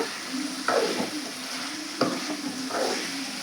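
Tomatoes frying in a pan of chicken curry with tamarind leaves, a soft sizzle broken by three scraping stirs of a spoon against the pan, close by and without talk.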